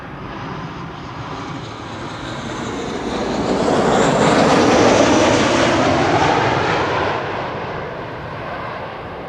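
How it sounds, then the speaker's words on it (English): A large, mostly white jet airliner at Amsterdam Schiphol Airport passes with a broad engine roar that swells to a peak midway and then slowly fades, no talk. "It's an almost all-white airplane, albeit big, but still mostly white."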